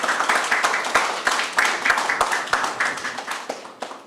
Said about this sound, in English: I think that alone deserves the first round of applause for the day